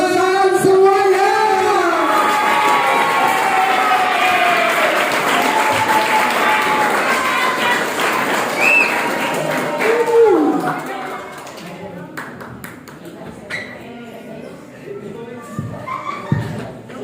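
Audience of Islamic boarding school students applauding at a large speech event, a loud sustained round of clapping that fades out after about ten seconds, leaving room noise and scattered sounds.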